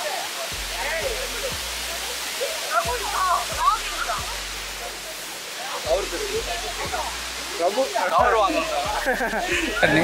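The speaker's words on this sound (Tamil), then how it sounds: "இதுதான் பாத்தீங்கன்னா அந்த வாட்டர் ஃபால்ஸ்" Kanthanpara Waterfalls in Wayanad roar steadily throughout, a broad hiss of a falling cascade, with faint voices and a few low knocks mixed in beneath it.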